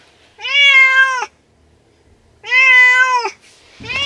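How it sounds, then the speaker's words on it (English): A cat inside a car meows twice, long drawn-out cries separated by a short pause, close and loud, with a third starting at the end. "She's very consistent in her meowing"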